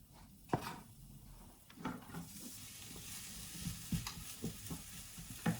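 Chopped onion frying in hot sunflower oil in a pan, a faint steady sizzle broken by scattered scraping stirs and light taps, close and quiet.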